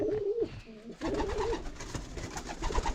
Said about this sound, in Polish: I tu jakie gołębie są.